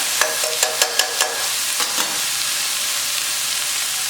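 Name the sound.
collard greens cooking in a pan with coconut milk, tossed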